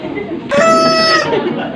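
A person imitates a chicken with one short, bright, loud clucking squawk, preceded by faint background chatter.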